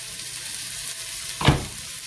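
Onion sauteing in a pan, a soft steady sizzle with one short scrape or stir burst partway through, close and brief, no talking.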